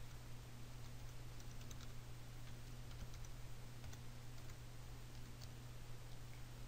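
Quiet, rapid keystrokes on a computer keyboard spell out a folder name, soft clicks ticking in an irregular stream over a steady low hum.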